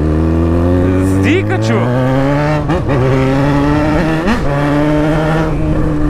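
Loud motorcycle engine with an aftermarket exhaust revving up and down with harmonic pitch sweeps, continuous and close, with brief speech over it.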